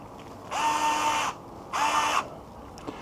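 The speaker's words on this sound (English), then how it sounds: "You'll notice I switch between the electric screwdriver and the manual one each time." An electric screwdriver drives screws into a Yokomo Rookie Speed RS 2.0 touring car kit, two distinct whirring bursts close up, each under a second long, separated by a short pause.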